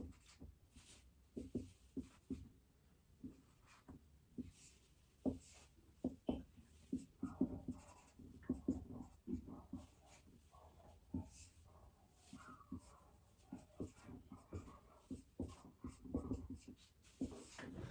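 Chalk or marker strokes writing out a calculus math problem, a steady run of short scratchy taps and scrapes close by with no talk, some strokes sharper than others.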